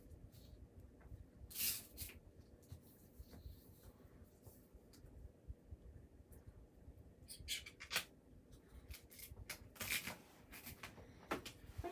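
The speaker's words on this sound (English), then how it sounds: "I'm looking for one of those outer lines to put my weeding tool into and pull outward" Weeding tool lifting and peeling patterned heat transfer vinyl off its backing: soft, close scratchy peels and crinkles in irregular bursts over a low steady background hum.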